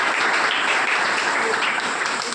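A seated audience claps steadily through a brief stretch, a dense continuous patter with no voices on top.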